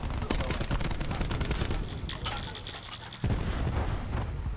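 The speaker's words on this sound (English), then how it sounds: "that cluster grenade is devastating" Cluster grenade blasts in Black Ops 4 team deathmatch gameplay: a loud, dense barrage of rapid explosive bangs and crackling gunfire. It runs almost nonstop, dips briefly, then surges again.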